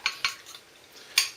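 Eggs beaten in a bowl for an omelette, kept apart from the oil, give a few quick clinks of a utensil against the bowl, with three distinct taps spaced across a brief moment.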